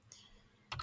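A few quick keystrokes on a computer keyboard, one faint tap and then a short close burst of clicks after a brief silence.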